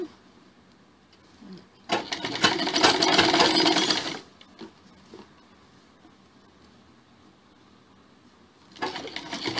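A sewing machine runs a loose tacking stitch along blouse piping, whirring steadily for about two seconds up close, then stopping and starting again briefly near the end.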